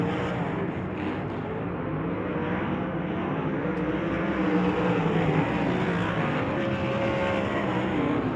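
USAC race cars roar around Cocopah Speedway in a continuous engine drone that swells slightly toward the end, distant and broad, with no voices.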